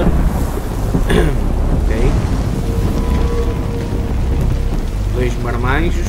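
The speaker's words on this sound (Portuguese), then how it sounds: "Muita chuvinha aqui já neste início do trailer." Rain and rolling thunder from The Last of Us Part II trailer, a heavy, steady downpour with deep rumbles, loud and continuous, with a few faint voice-like sounds mixed in.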